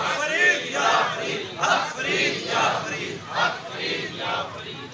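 Large crowd at a religious gathering chanting back in unison to a slogan, with loud rhythmic surges about once a second that rise and fall in repeated waves.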